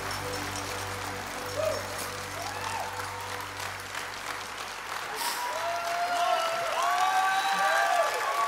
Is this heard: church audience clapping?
yes